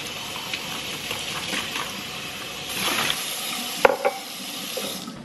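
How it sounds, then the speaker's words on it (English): Running tap water splashes while a cup is rinsed out at a home kitchen sink, a steady close wash with a few brief clinks near the end. "Let me wash this cup out."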